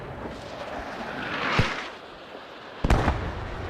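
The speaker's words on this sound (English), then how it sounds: "Let's see what the mortars are going to hit over here." Mortar shells exploding in the WWII shooter Squad 44, with two distinct booming blasts about a second apart, the second one sharper and louder, set over a low rumbling battlefield background.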